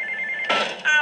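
A mobile phone rings loudly nearby with repeated trilling bursts of tone, and a brief clatter comes between the rings.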